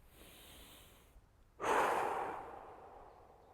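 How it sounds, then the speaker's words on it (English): A single deliberate breath drawn through the nose, a soft rushing airflow that rises suddenly, holds for about a second and fades slowly, heard close and alone after a quieter stretch. "As much nose breathing as possible."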